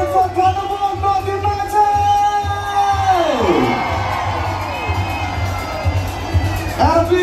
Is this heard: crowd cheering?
yes